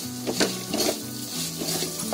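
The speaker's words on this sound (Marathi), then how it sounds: "कांदा आपला चांगला आहे ना ते ग्रेव्हीमध्ये पहिला फ्राय करून घ्यायचा" Chopped onion frying in gravy in a pan, a steady sizzle with repeated stirring scrapes and light utensil clinks against the pot, close and continuous with no talk.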